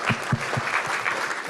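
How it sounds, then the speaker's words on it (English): An indoor audience claps for panelists at the end of a session, a short burst of dense, close applause with rapid overlapping hand claps. "Let's give them a big hand, please."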